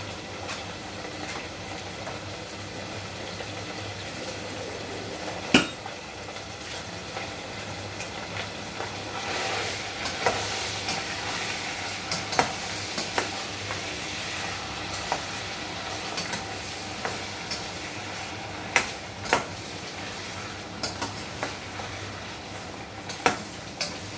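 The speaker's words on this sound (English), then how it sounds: "we're just waiting for the meat to fry up" Minced beef sizzling and frying in a pan, a steady crackling hiss with occasional clinks and scrapes of stirring.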